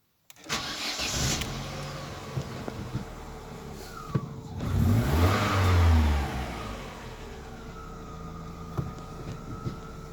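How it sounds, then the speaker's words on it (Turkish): An Opel Astra G engine turns over and catches, with a swell of revving midway before dropping back to a steady idle, heard fairly close inside a garage-like setting with no talk. "Arabayı çalıştıralım."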